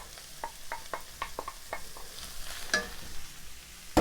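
Ground meat and softened onions in a pan, a quiet sizzle under a run of sharp scraping and clacking strokes from stirring, with a louder knock at the end.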